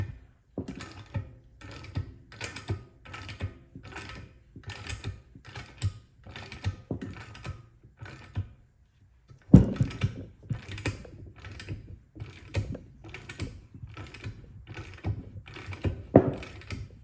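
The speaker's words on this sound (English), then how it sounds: "attaching the lower A-frame ball joint, because without the shaft there, I can get in there and torque this down a lot easier" A ratcheting torque wrench tightens the lower A-frame ball joint on a Corvette chassis, giving rhythmic rapid clicking strokes close by, with a short pause partway before the clicking resumes.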